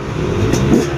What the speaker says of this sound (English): Kick it over, see how it sounds.